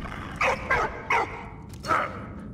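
A dog in the World War I video game Valiant Hearts gives four short barks, three in quick succession and one after a pause, fairly close, over a low background.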